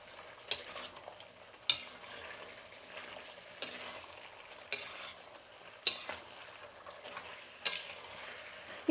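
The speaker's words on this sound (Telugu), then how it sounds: "చూడండి బాగా ఉడుకుతుంది మన చికెన్ అనేది" Black chicken simmering in a covered pan, a quiet steady bubbling and sizzling broken by occasional sharp clinks and taps.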